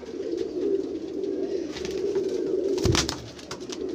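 Low, rolling coos from a red-eyed golden pigeon run on steadily nearby, with a brief thump or flutter near the end.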